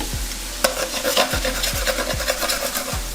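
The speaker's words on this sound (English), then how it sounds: "So I'm gonna go ahead and stir this around." Carrots are stirred in a hot pan: a steady sizzle of frying runs underneath about five rhythmic scraping strokes of a utensil across the pan, close and clear.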